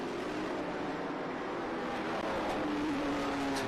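Trans Am and SVRA race cars on the start straight at Circuit of the Americas, engines blending into a steady, distant roar that swells slightly as the field passes, with no talking.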